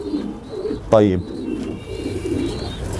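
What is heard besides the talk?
pigeons cooing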